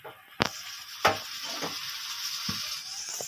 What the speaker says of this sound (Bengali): এটাকে আমি ভালোভাবে ভেজে নেব।